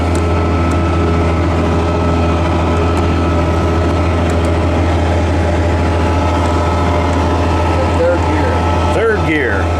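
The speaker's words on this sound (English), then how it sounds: "Got the PTO running through the transmission. Putting the slurry on there pretty good." A tractor drives a slurry spreader through a PTO run off the transmission, making a loud, steady, close-up mechanical drone with a deep engine hum that never lets up.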